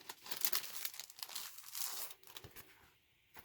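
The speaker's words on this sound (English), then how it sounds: "Now let me pull this open here and show you." Plastic packaging of an adhesive diamond wrap being pulled open, close crinkling and tearing that rustles in bursts and then quiets near the end.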